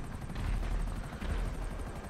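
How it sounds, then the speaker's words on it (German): A helicopter in GTA V Online, a steady low rotor thrum with rhythmic pulsing that swells and eases, close and continuous, with no one speaking over it. "Du hast da einen Heli bei dir"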